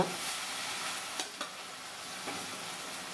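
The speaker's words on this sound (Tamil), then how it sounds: "நல்லா இந்த மாதிரி எண்ணெயில் பரட்டி விட்டிங்கன்னா மசாலா நல்லா இதாக இருக்குங்க" Elephant yam pieces stir-fried with masala in oil for senai kizhangu fry sizzle steadily in a hissing wash, with a couple of sharper scrapes from stirring.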